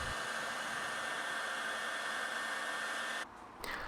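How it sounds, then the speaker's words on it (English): A heat gun blows hot air to melt wax into canvas, a steady, close whooshing hiss that cuts off abruptly near the end, then briefly returns. "melting it in using a heat gun."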